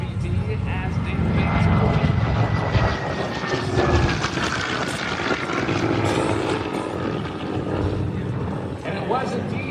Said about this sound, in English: There's the wave pass by the SBD as David